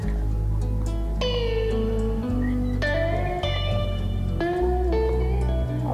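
A cat meows several times in a row, each call drawn out and sliding down in pitch, close by over a steady low hum in the background.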